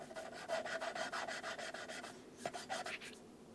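Coarse grinding paste lapped into a valve seat, giving repeated back-and-forth gritty rubbing strokes in a steady rhythm, close and fairly quiet, with a short pause before a few final strokes.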